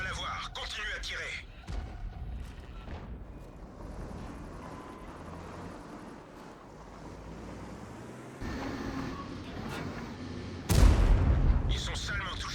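Tank cannons fire in World of Tanks during a clan war battle: several sharp blasts stand out over a low wind-like rumble, the loudest a heavy booming shot late on, with voices talking.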